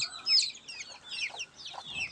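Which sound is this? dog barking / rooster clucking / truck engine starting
rooster clucking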